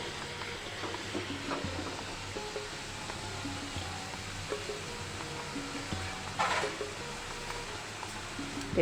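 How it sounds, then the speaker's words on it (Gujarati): A steady soft sizzle of grated bottle gourd sautéing in a pan, continuous and fairly quiet, with an occasional scrape of a spatula. "દૂધીના છીણને આપણે બે મિનિટ માટે સતળવા દેવાનું છે"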